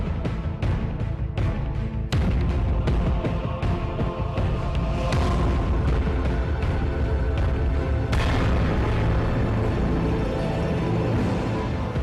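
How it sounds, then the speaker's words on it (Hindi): Gunfire by thugs in news footage, a crime scene in Ambah, Morena, where shots rang out after a trader asked for money he was owed. Loud repeated bangs and booms, dense and sustained throughout, with no clear talk. "जहां एक व्यापारी ने उधारी के पैसे मांगे तो बदमाशों ने फायरिंग शुरू कर दी"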